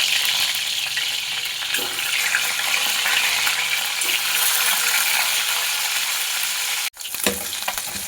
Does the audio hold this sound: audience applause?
no